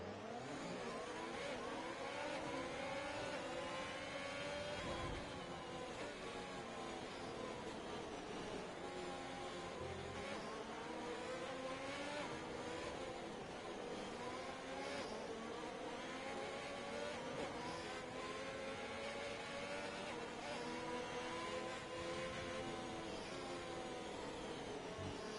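Race cars on a formation lap at the Monaco Grand Prix in a racing game, a continuous whirring engine drone with rising and falling revs from several cars, steady and unbroken, with no talk over it.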